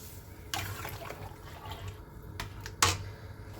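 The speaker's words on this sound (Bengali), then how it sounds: "দিয়ে দিলাম গরম জল।" Hot water is poured into a simmering potato curry, a quiet close splash and gush of liquid with a sharper splash near the end.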